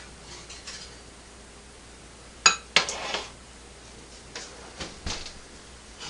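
Ceramic and glass baking dishes of portobello mushroom shepherd's pie clink and clatter as they are taken out of the oven and set down, a few sharp knocks amid quiet kitchen background.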